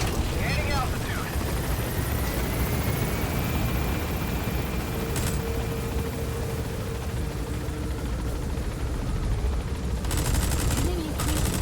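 Military helicopter in the stealth action game Metal Gear Solid V: The Phantom Pain, a steady dense rotor and engine roar filling the whole clip, with bursts of gunfire-like crackle and game voice lines over it.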